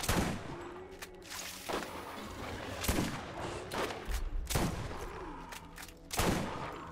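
Sniper rifle fire in the video game Borderlands, several sharp shots at irregular intervals, some followed by echoing tails, over a busy in-game background with no talking.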